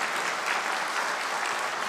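A congregation at a Korean winter church camp claps during a sermon, giving a dense, even burst of applause that holds steady throughout.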